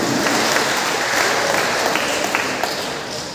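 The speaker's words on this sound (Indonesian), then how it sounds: "Tepuk tangan untuk Tuhan." Church congregation applauding at a Getsemani parish anniversary gathering, a dense, sustained wash of many hands clapping that is loud and near, then tapers slightly at the end.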